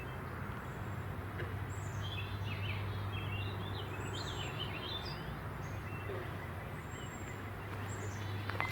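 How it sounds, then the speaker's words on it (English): Black-capped chickadee calls sound faintly at a distance outdoors, several thin, high chirping phrases scattered through the clip over a steady low hum of background noise. "The chickadee vocalizations have me wondering."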